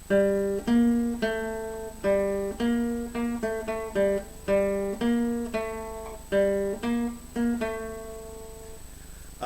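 A clean plucked guitar melody on the second string, one note after another in a steady, unhurried rhythm, each tone ringing briefly before the next. No voices.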